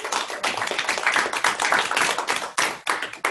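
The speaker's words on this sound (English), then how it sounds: "If we could just give our panelists a round of applause." Audience clapping for panelists at a careers-day event, loud, close, dense handclaps with a couple of brief dips before picking back up.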